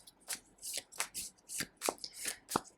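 A deck of tarot cards is shuffled by hand, giving a run of quick, crisp riffling bursts in a loose rhythm, close and fairly quiet, with no voices.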